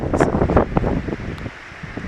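Wind gusts buffet the microphone in loud, rough bursts on a hilltop in Marseille, with a faint rustle beneath and no one talking.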